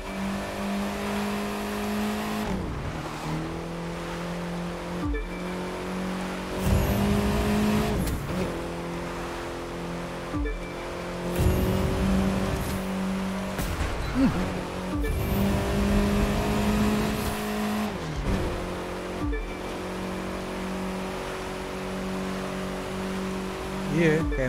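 Cars in The Crew racing video game, engines revving hard and dropping through repeated gear changes, with occasional tire squeal, loud and continuous throughout.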